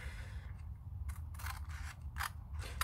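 Scissors snipping through paper for a homemade gift box, several quick crisp cuts in close succession, near and fairly quiet over a low background hum, with no talking.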